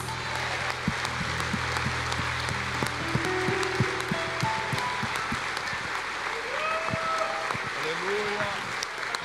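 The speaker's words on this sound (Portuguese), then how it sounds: "Eu estabeleço isso com palmas em nome de Jesus." A church congregation claps hands in a dense, continuous wash of applause, with voices mixed in the background throughout.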